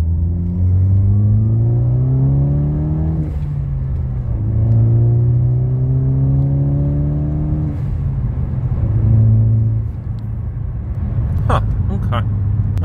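A Ford Focus ST on a performance calibration adding 90 lb-ft of torque revs and accelerates through several rising gear pulls, a loud, close engine drone that climbs in pitch, drops at each shift and climbs again, with brief sharp pops near the end.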